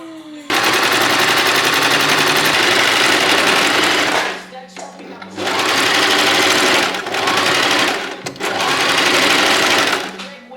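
A sewing machine stitches the side seam of a skirt in three loud, fast-chattering bursts, with brief quiet pauses between runs and faint low sounds in the gaps.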